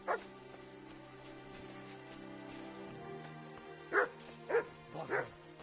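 A dog in the medieval video game Kingdom Come: Deliverance 2, barking a few times close by at a moderate level over quiet ambient background.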